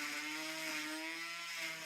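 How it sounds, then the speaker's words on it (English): Small slot drill, turned down on a lathe, routing a slot in wood for a Stuart model steam plant build, a steady high-pitched whine with constant tone and no talk. "This slot drill that I turned down in the lathe seems to be doing the job quite well."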